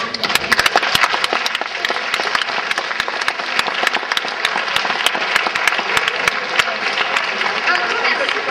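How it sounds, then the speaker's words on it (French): Loud, close applause from an audience honouring the hosts at a short-film screening, dense clapping throughout with sharp individual claps standing out. "Une bonne main d'applaudissements pour nos merveilleux animateurs."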